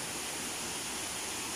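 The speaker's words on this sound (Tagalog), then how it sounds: "Yung agos po ng tubig nito napakalakas mga boss." Strong rushing current at Wawa Dam in Montalban, Rodriguez, Rizal, Philippines, a steady broadband roar of water with no breaks, fairly faint and even throughout.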